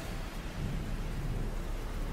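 A rain and thunderstorm sound effect: a steady, loud wash of heavy rain with a deep rumbling underneath, continuous and unbroken, with no voices.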